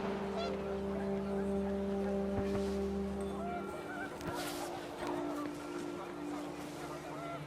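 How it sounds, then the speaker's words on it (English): Panicked geese honk in the video game What Remains of Edith Finch, fairly faint honks over wind and a low rumbling background that quickly fade. "The wind picked up, and panicked geese appeared and quickly went."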